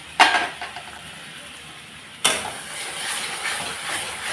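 Steam hissing from an uncovered cooking pot of pabda fish curry, a burst as the lid comes off and then a steady, broad hiss with faint sizzling that swells and persists close by.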